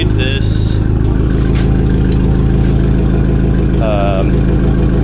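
Turbocharged car with 2.5-inch straight-piped exhaust, no catalytic converter, muffler or resonator, idles with a loud raw burbling rumble, a brief rev near the end, while someone talks over it.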